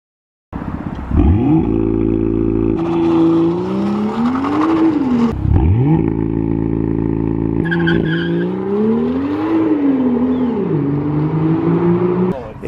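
A BMW M2 roars through repeated loud revs and launch-control launches, its engine note rising and falling through several gears up close, with a steady hum between pulls.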